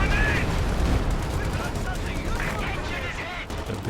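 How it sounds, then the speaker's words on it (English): Stuka dive bomber barrage in the video game Company of Heroes 2, heard as a dense, continuous roar of overlapping blasts and rapid gunfire throughout, loud and close. "Stuka, barrage."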